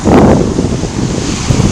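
Strong wind at a beach roars and buffets the microphone in a dense, broadband rush, with a low rumble that may include surf beneath it.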